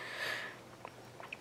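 A leashed dog sniffs around inside a store on its first public outing, with a quick run of close, breathy sniffs and a few faint clicks and taps behind them.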